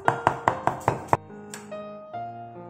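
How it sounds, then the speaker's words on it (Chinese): A knife chops minced meat with crushed green onion on a board: six steady, evenly spaced thuds close by. The chopping then stops, leaving soft tonal background music. "一起剁碎"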